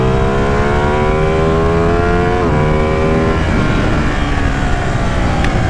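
A Ducati Panigale 899 motorcycle engine revs loud and close with a strongly tonal, harmonic note, climbing steadily before a gear change drops the pitch, then climbing again while it pulls away.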